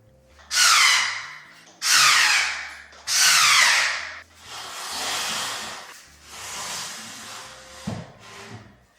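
Several bursts of a power drill or driver tightening screws on a merch storage unit under assembly, three strong whirring runs followed by softer, rougher ones and a small knock near the end.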